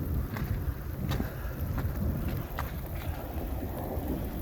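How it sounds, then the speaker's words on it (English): Strong wind during a big storm with thunder and lightning buffets the microphone as a constant loud roar with low rumble and occasional gust thumps, no voices. "Still pretty windy."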